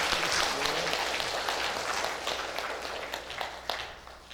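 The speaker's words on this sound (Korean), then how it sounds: "다시 한번 큰 박수 부탁드리겠습니다." A congregation at a Seattle Korean church Sunday service gives a round of applause, loud at first and gradually thinning into scattered claps as it fades.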